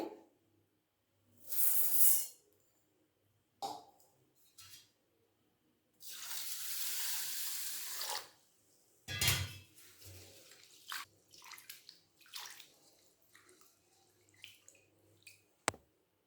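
Two glasses of basmati rice are rinsed in water, with bursts of running tap water and sloshing, swishing grains coming in separate close spells between quieter pauses.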